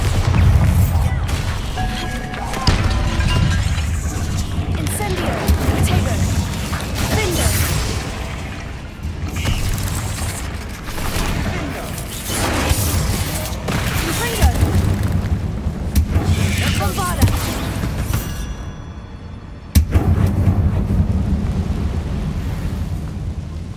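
Bombarda blast spell exploding inside a tall, grand room in the video game Hogwarts Legacy: a deep boom over a dense, rumbling game soundscape, with a sharp burst standing out near the end and voices at times.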